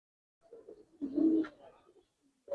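Giribaz pigeons coo softly nearby, a low throaty burbling phrase that swells and fades, followed by a short second coo starting at the end.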